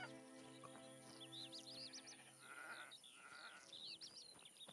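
Sheep bleating in the Witcher video game near a village sheep herder, several soft bleats rising over a steady game soundscape with bird chirps, quiet and without speech.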